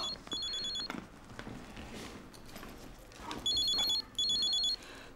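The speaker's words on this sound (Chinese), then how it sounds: "好像是您的手机在响。" A mobile phone rings in short electronic bursts, two at the start and two more near the end, fairly faint against quiet room noise with no speech over it.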